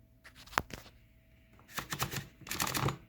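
A Corona 3 folding typewriter's paper feed roller is turned by hand, giving a few sharp mechanical clicks and ratcheting rattles in bursts, close and fairly quiet, with no talking.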